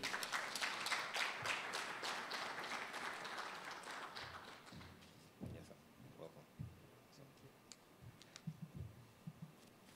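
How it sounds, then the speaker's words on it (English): An audience at an architects' annual general meeting claps to welcome a speaker, a dense burst of applause that thins into scattered claps and fades, with a few low bumps and voices toward the end. "With a big round of applause"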